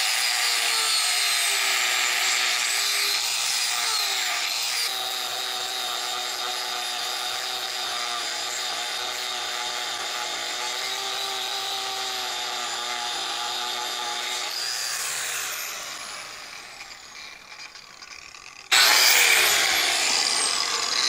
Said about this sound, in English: if you wanna watch me grind